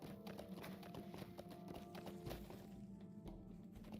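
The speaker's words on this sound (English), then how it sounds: "This is the horse that I got from the Shire, by the way." Hooves of a Shire horse in a video game clip-clop at a steady walking rhythm, quiet and even, with faint background game ambience.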